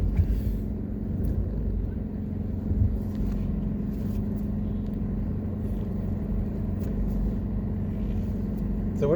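A car rolls slowly through the gate into the grounds of the Moon Palace hotel in Jamaica, its steady low engine rumble continuous and close throughout with no sharp events.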